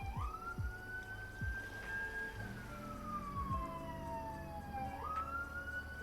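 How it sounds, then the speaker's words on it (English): Emergency vehicle sirens pass outside, a loud wailing tone sweeping up and down over low traffic rumble and a few thumps, continuous throughout. "Here comes the sirens."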